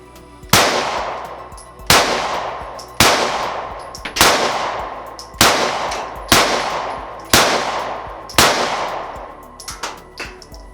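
Gunshots from a new, inexperienced shooter, about eight sharp loud reports at roughly one-second intervals, each ringing out and decaying, with a few smaller clicks and taps at the end.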